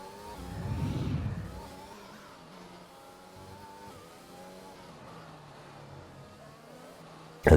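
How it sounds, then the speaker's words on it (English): An F1 race car in the F1 2021 game slides around the Azerbaijan Grand Prix street circuit, its engine droning steadily with a louder swell early on and a sharp burst at the very end. "you can see the car sliding around"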